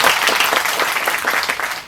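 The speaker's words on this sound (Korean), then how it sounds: "여러분 박수 한번 크게 쳐주셔야죠." An audience at a Korean community results-sharing event claps loudly, steady dense applause filling the short moment without speech.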